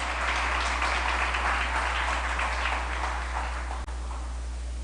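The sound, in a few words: audience round of applause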